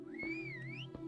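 A single rising and falling whistle tone from the Xbox stealth game Stolen, set in a museum level, sounds clear and fairly close, with soft thuds before and after it.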